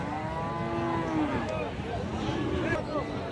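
Sahiwal cattle at a border-area livestock market moo in long, drawn-out calls, one low moo standing out against the steady crowd murmur, with voices talking nearby.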